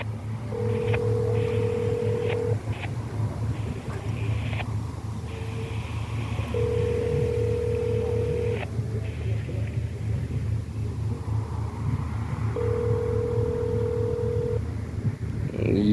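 A phone call being placed and left ringing: steady ringback tones repeat in long even bursts, about three over the span, over a constant low traffic rumble near a construction site by a bike lane, with brief dialing beeps early on.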